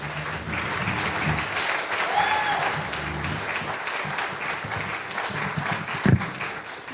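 An audience at a Sunrise Movement gathering in Asheville applauds as a speaker comes to the stage. The clapping is sustained and moderately loud, with a few cheers and a brief louder thump near the end.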